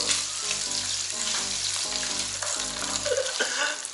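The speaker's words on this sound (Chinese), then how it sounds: "来，我们先 炒肉， 五香肉。" Five-spice pork frying in hot oil gives a steady, dense sizzle for the whole stretch, with a rhythmic low-pitched musical backing running beneath it.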